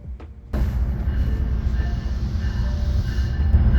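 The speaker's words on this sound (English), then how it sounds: "another Dover-bound train pulled into Platform 1 with Bombardier multi-level cab car number 7009 leading and Bombardier Out 46A number 4608 pushing behind" An NJ Transit train led by a Bombardier multilevel cab car, with a Bombardier ALP-46A locomotive pushing, pulls into a platform at Newark, giving a loud steady rumble of wheels and rail noise that begins abruptly and continues throughout.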